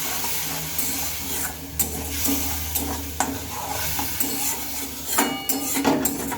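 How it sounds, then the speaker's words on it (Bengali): Spice paste with chili powder, salt, turmeric and a splash of water is sautéed in a pan for cauliflower and lentil dhoka, with a steady sizzle broken by repeated scraping stirs and clinks close by. "এখন মশলাটা একটু ভালোভাবে আমি কষিয়ে নেবো"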